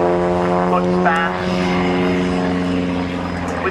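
Small biplane of roughly 23-foot span flies at the Shoreham Airshow, its propeller engine droning steadily and loudly with a strong harmonic buzz, while a commentator talks over it.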